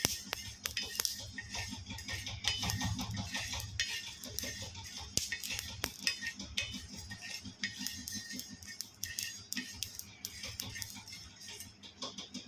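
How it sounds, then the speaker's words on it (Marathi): Coriander seeds roasting in a pan, giving quiet, scattered ticks and small pops with occasional clinks of a pan and utensil, fairly close but faint throughout. "जेव्हा धन्यांचा आवाज येतो ना असा टकटक दिसत असेल तुम्हाला, तर समजायचं धने झालेले आहेत"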